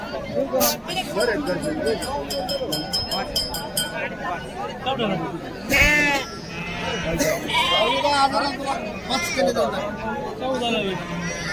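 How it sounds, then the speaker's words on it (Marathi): Sheep and lambs bleat repeatedly at the Kashti livestock market, several wavering calls overlapping near and mid-distance amid crowd chatter and people talking, with occasional clinks. "या अशा प्रकारच्या मेंढ्या आणि बालिंगे तुम्हाला काष्टीच्या बाजारामध्ये पाहायला मिळतात."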